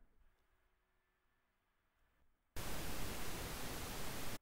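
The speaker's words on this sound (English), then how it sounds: "let's create a UGEN function that delays pink noise by 1 second" Quiet room tone, then a loud burst of broadband pink noise, delayed by one second in SuperCollider, switches on abruptly and continues steadily until it cuts off.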